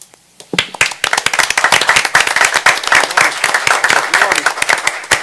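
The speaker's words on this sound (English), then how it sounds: "Let's stand up, clap for it." People at a city commission meeting stand and clap for the fire department. After a quiet start, the clapping builds into loud, fairly sparse claps from a small crowd, with some voices underneath.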